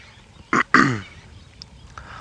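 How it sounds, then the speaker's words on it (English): Egyptian geese calling by water with duckweed on an early-morning safari drive: two harsh, nasal honks in quick succession, fairly close and loud against a quiet background. "let's have a look at those Egyptian geese again"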